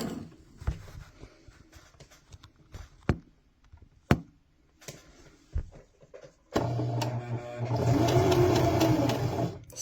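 A sewing machine stitching straight across a boffer sword cover for LARP, starting with scattered taps and clicks, then running steadily and fairly close for the last few seconds.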